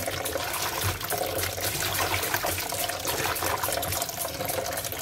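Water poured into a pot to boil for an herbal tea of avocado, guyabano and guava leaves with ginger, a steady close trickling and splashing stream running continuously without talk.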